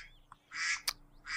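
A cartoonish duck call, the Duck of Doom from The Sims 3, sounds in a few short bright bursts with a sharp click in between, moderately loud and with no talking.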